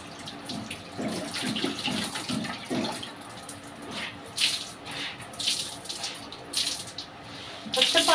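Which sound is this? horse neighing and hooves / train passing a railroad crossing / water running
water running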